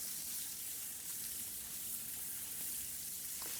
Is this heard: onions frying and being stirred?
yes